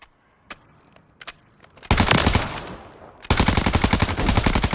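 RM277 rifle in Call of Duty Modern Warfare III on Rebirth Island, a few isolated shots, then two loud sustained automatic bursts of rapid, evenly spaced fire close up.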